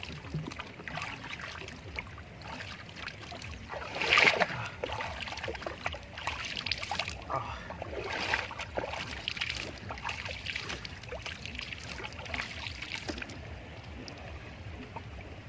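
A boat moves along a river, likely the Padma, with faint, steady water wash and soft trickling against the hull, quiet and continuous with a brief louder splash near the middle.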